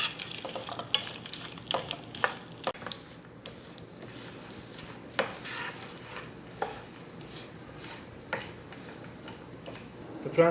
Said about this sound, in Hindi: सबसे पहले हम अपने मेवे रोस्ट कर लेंगे।